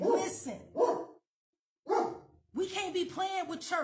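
A dog barks a few times close by while a preacher talks over it, the barks mixed in among his speech.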